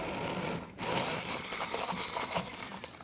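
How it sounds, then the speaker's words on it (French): Electric blender whirring as it purées red cabbage with star anise and aniseed for a juice, a steady close motor drone after a brief dip at the start, with no voices. "Je vais le mixer."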